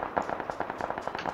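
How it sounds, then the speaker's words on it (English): A rapid string of firecracker-like pops crackles in a battle royale video game, a dense, moderately loud run of sharp bangs roughly every tenth of a second. "I hope those are like firecrackers for impending chicken dinner."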